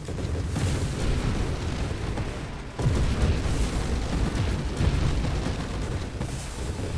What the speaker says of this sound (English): I swear these explosion sounds have not stopped in like the past 10 minutes